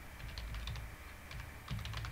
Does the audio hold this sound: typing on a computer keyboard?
yes